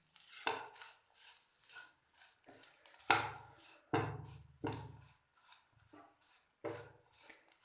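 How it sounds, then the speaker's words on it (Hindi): Masala of chaat masala, red chilli and cumin stirred together in a pan, giving scattered scraping and rubbing strokes with a few louder clanks of the spoon against the pan. "अब मैं इन सब चीज़ों को मिक्स कर दूंगी।"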